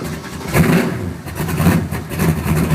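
A race car's engine on a cold start revs in quick, uneven blips over a rough, loud idle, surging several times in a row.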